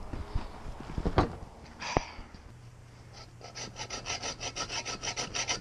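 A hacksaw cuts into a Cummins turbo diesel oil filter, starting with a few clunks and knocks as it is positioned, then settling into a steady rhythmic back-and-forth rasp of quick, fairly quiet strokes.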